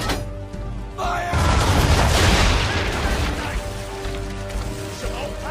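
Ship cannons firing in the video game Assassin's Creed 3, a loud booming barrage of overlapping blasts that rolls on and decays, with music and effects underneath.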